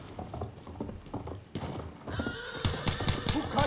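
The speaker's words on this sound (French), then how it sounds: "Il y a un cheval" Horse in the Battlefield 1 video game, hooves clip-clopping in a steady galloping rhythm, then a loud, shrill whinny near the end, with battle noise and faint talk underneath.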